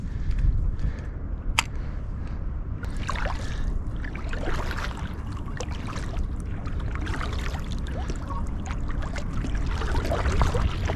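Kayak paddling along a shoreline on a winter morning while squid fishing, with steady water trickles and splashes from paddle strokes across the whole stretch, fairly close and continuous, no talking.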